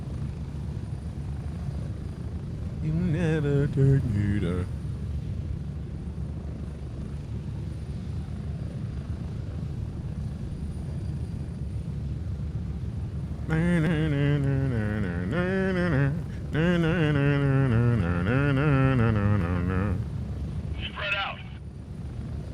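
A military helicopter in the shooter game Gray Zone Warfare thrums with a continuous low rotor and engine drone through the whole flight, while voices talk over it in bursts.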